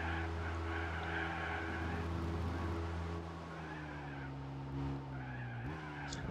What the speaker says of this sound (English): Almost 200 kilometers an hour in a diesel.